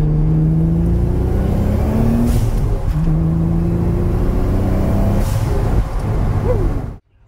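A Nissan 300ZX fitted with a blow-off valve accelerates hard in second gear, its engine note rising in steady loud sweeps that fill the clip before cutting off abruptly near the end.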